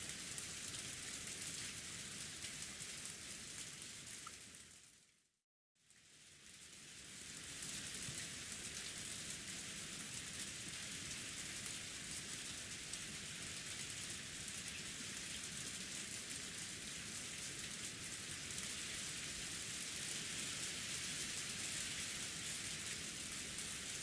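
Steady, dense rain pours continuously in the game Umineko When They Cry, a loud even hiss that cuts out briefly for a moment before resuming unchanged.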